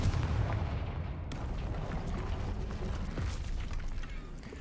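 Confringo fire spell in Hogwarts Legacy bursting into a loud, dense booming rumble that fills the moment, continuous heavy blast noise with no voices over it.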